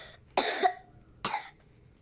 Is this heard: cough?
yes